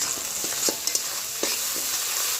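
Spiced masala frying in a pan with salt and turmeric, stirred in a few scrapes over a steady high hiss, close and alone with no voices.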